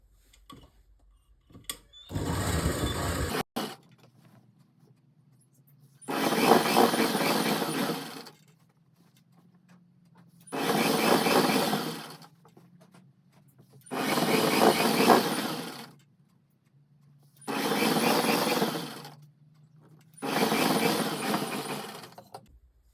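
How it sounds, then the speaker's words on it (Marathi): A sewing machine stitches fabric along a paper canvas edge in six separate loud runs of whirring stitching, each a couple of seconds long, with quiet pauses between. "पेपर कॅनव्हासच्या किनारीवरून शिलाई मारून घ्यायची आहे"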